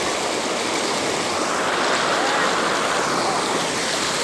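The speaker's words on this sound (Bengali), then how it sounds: "দেখেন এই জায়গাটাই কত স্রোত।" Strong current of a river rushing steadily past, a loud, continuous broadband wash of water close by with no pauses.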